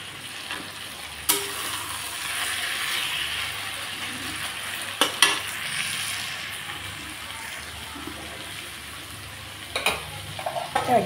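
Fish and vegetable curry being stirred in a pan, a soft continuous sizzle broken by a few sharp clinks and scrapes of the spoon against the pan, no talking.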